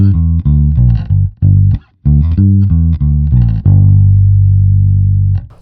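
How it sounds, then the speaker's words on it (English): A Squier Classic Vibe 60s Jazz Bass with both pickups fully open plays a short, loud riff of thick, sustained low notes in quick phrases, ending on one long held note, with no voices. "So the bass full open sounds like this."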